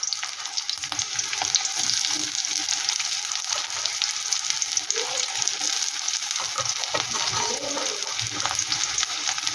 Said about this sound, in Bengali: এটাকে ভালো করে আমি একটু ভেজে নেব